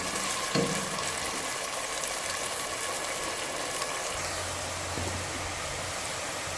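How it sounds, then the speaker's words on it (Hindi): Onions frying in a pan until golden brown, a continuous hissing sizzle held at an even level with a few faint scrapes and low hums. "प्याज की गोल्डन ब्राउन होने तक पकाते रहें।"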